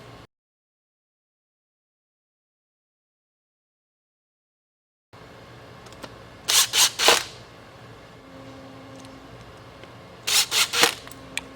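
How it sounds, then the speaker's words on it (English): An impact driver drives screws to mount a rear door speaker in a Toyota 4Runner. After several seconds of silence, it fires in two clusters of short, sharp, rattling bursts against a faint background hum. "You're going to take your impact, and you're going to line up the speaker with the holes that you just drilled for it."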